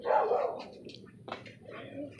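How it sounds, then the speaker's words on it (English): A neighbour's dog next door gives a few barks and yips, fairly near and loud at first, then softer, mixed with a person's voice. "That's the dog next door."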